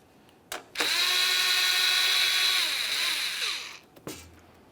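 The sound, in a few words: power drill removing 7mm bolt on GMC Acadia panel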